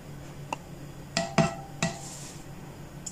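Caramel being scraped off a metal slotted spoon in a home kitchen gives a few sharp metallic clinks and taps, spaced irregularly and close, with quiet moments between.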